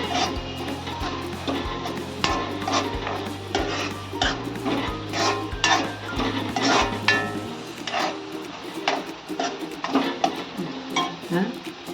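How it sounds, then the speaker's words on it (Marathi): A spoon stirs grated coconut into a pea curry (matar bhaji) in a metal pan, making quiet clinks and scrapes in an irregular rhythm, close and fairly soft, with a low hum underneath. "ढवळून घेते."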